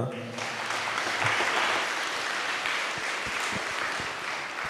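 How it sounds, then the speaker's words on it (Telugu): A church congregation breaks into sustained, dense clapping that swells quickly and holds steady, filling the room at moderate loudness. "గట్టిగా చప్పట్లు కొడదామా?"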